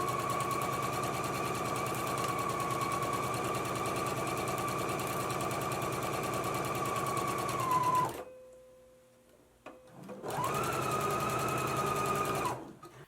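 A sewing machine stitches a front band seam at a 5/8 inch allowance, humming loud and close in a long steady run, pausing briefly, then starting again for a short second burst.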